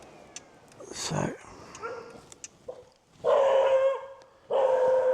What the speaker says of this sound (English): dogs are noisy.